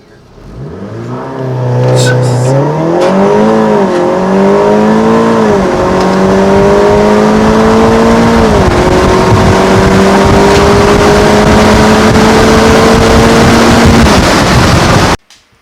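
An Audi TTS with Torque Solution motor mounts launches hard using launch control, its engine revving loudly and climbing steadily through gear changes for about thirteen seconds before cutting off abruptly at the end.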